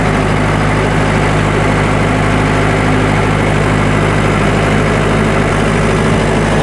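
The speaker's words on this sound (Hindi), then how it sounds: "इंजन हमारा चल रहा है।" A diesel generator engine runs steadily at close range during a protection test, a loud, continuous low rumble with a constant hum and no variation in pace or level throughout.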